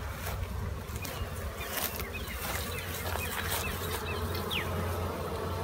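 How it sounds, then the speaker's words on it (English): Bees swarm and buzz around a hot beehive outdoors, a dense, steady hum that carries all the way through. "Look at all those bees."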